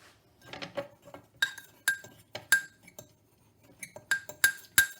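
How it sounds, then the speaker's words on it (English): A fork or spoon stirs cupcake dry ingredients in a bowl: a run of bright metallic clinks and taps against the dish, irregular at first, then sharper, evenly spaced strikes, close and clear with no talking. "So I would get a fork or a spoon, whatever your preference is, and just give those dry ingredients a little mix"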